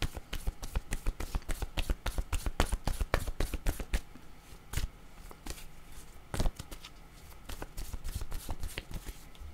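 Cards are shuffled and drawn during a card reading: a fast run of crisp riffling flicks and taps, close but quiet, slowing into scattered snaps and soft slides.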